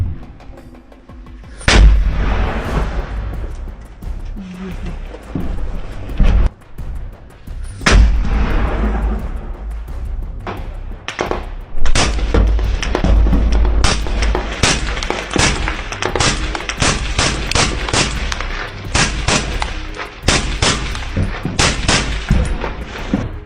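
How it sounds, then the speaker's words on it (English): Loud rifle shots from a Ukrainian sniper in a combat ambush, several sharp cracks spaced seconds apart, then a rapid run of shots in the latter half, booming and echoing with little else around them. "it is still striking to hear the shots fired by the Ukrainian soldier"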